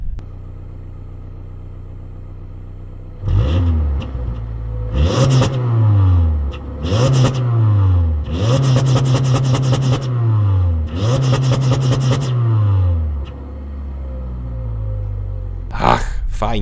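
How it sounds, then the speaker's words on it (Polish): Subaru Forester 2024 2.0i-L e-BOXER exhaust revved hard several times, each rise followed by a falling note as the engine drops back, with loud close bursts and a short pause between blips. "To, co jednak fajnie pracuje, to wydech."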